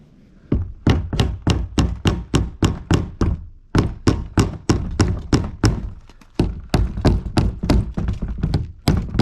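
Sharp, loud knocks ring out as the fuel pump ring goes back onto a Commodore fuel tank. The steady, evenly spaced strikes come close by in runs, broken by brief pauses.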